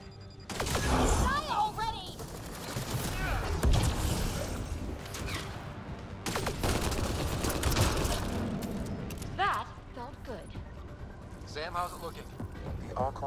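Bursts of weapon fire in the video game Mass Effect Andromeda, on the Salarian Ark, with loud overlapping shots and effects early on, then sparser blasts under talk.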